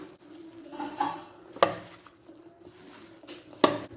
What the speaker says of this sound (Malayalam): ഇനി ഇതെല്ലാം കൂടി നമുക്ക് നല്ലോണം മിക്സ് ചെയ്തെടുക്കാം.